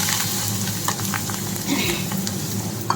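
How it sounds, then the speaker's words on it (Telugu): Hot oil tempering sizzling steadily in a pan as fresh coriander leaves go in, a dense continuous crackle with occasional stirring scrapes, close and fairly loud throughout. "దీంట్లోనే కొద్దిగా కొత్తిమీర వేసుకుంటే ఆ వేడికి కొత్తిమీర బాగుంటుంది"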